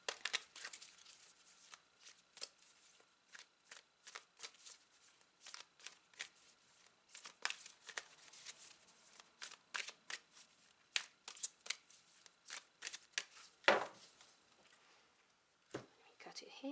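A deck of oracle cards is shuffled over and over in quick, crisp riffles and slides, fairly close, with one sharper slap near the end and no talking.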